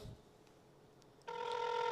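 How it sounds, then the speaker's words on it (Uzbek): An outgoing call to a Samsung A17 prize winner rings out in a single steady, fairly loud ringback tone that starts partway through, after a quiet stretch of faint background noise. "Telefon ko'tarishlarini kutamiz."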